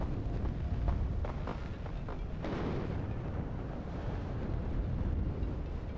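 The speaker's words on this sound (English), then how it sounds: "Artillery coming in on them as well." Artillery shells land in a WARNO battle, a continuous low rumble of distant explosions with several sharper impacts in the first half and no voices.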